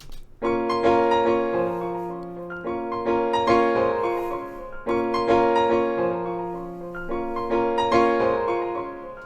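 Rhythmic piano chords strike in a bouncy, repeating dance pattern with a steady pulse and bright sustained notes, played alone without voices.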